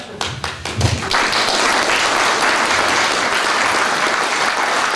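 A large audience applauding at a literary event in Chamonix, a loud, dense and steady wash of clapping that swells after a few scattered early claps and continues throughout.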